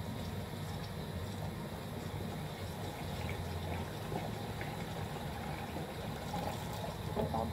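Water poured out of a container holding young Kamfa flowerhorn fish fry, a steady low splashing rush, faint and continuous with no talking.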